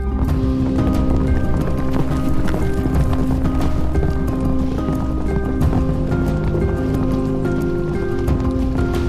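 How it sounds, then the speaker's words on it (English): Yaks running across wetland grassland on the Qinghai-Tibet Plateau at Maqu, heard as a continuous, loud mass of hoofbeats and drumming thuds with steady movement throughout and no talking. "The yaks of Maqu also love running across the wetland grassland."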